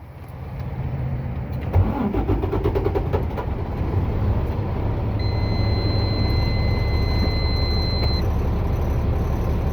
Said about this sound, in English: I'm gonna safe start my truck.